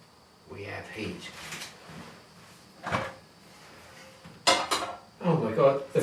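A frying pan and other cookware clatter and clank in a small cabin kitchen, bursts of metallic knocks and scrapes between quieter stretches, with voices talking.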